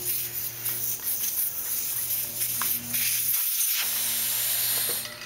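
Air hisses steadily and close up through a tire valve stem during tire mounting on a wheel with an inner tube, a continuous rushing leak holding for several seconds before it drops off near the end.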